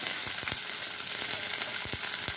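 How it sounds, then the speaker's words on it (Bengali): Dried chilli and chopped onion frying in hot mustard oil, heard as a dense crackling sizzle with sharp spitting pops scattered through it, loud and close, no speech. "শুকনো লঙ্কাটা একটু ভাজা ভাজা হয়ে গেলে আমি দিয়ে দেবো কুচনো পেঁয়াজ"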